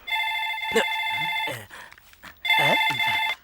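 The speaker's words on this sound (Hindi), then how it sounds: "ललिता, तुम्हारा फोन है।" A telephone rings in an office in a South Indian action film, a loud repeating electronic trill in two long bursts with a short pause between.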